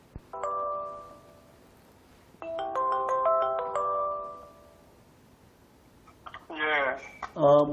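An outgoing telephone call, with electronic tones and clicks as the number connects, followed by two bursts of ringback tone separated by quiet. Brief bits of voice come at the end.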